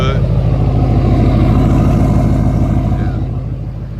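2008 Duramax diesel pickup idling as it warms up, a loud close rumbling clatter with a steady throbbing pulse that continues unchanged and eases slightly toward the end.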